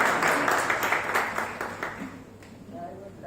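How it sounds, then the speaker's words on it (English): Students clap together in a lecture hall, a dense wash of applause that is loudest at the start and gradually thins and fades over a few seconds. "clap for yourself for being so motivated"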